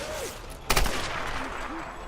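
A single close shotgun blast fired in Tomb Raider Definitive Edition, a sharp loud burst that fades quickly into steady game ambience with faint background tones.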